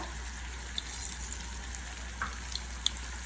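Mustard seeds sizzle in hot oil in a pan already used for roasting sesame, a steady soft frying hiss broken by a few sharp pops and crackles.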